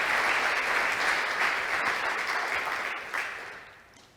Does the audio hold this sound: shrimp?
no